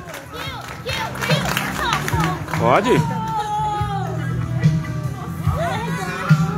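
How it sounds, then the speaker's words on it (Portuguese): A crowd at a school claps and cheers, bursts of applause and excited shouts mixing with children's voices and chatter, fairly close and lively, with a person talking over the noise. "Uma salva de palmas!"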